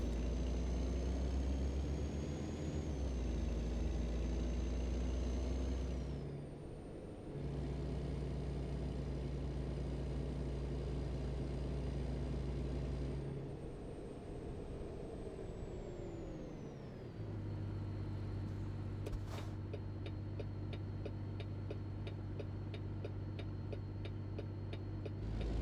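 Simulated heavy truck in American Truck Simulator cruising at night, a steady engine drone with shifting gear tones, a hissing air-brake burst partway through and a ticking indicator near the end.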